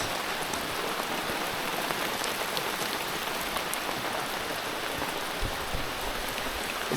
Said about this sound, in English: we have little rivers running down our tyre ruts